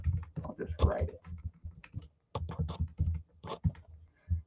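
Keys clatter in quick, uneven bursts as code is typed on a computer keyboard in an editor, with a voice talking over much of the typing and a short pause midway.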